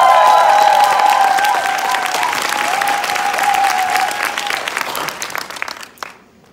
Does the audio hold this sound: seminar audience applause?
yes